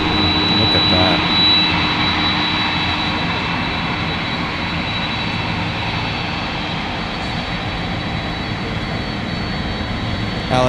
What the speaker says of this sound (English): you can't get any closer to a UPS 767-300 freighter than this